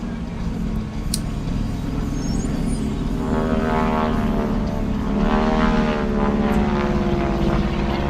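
A propeller airplane drones overhead, its steady engine hum rising and swelling in pitch as it passes, loud and continuous across the whole stretch.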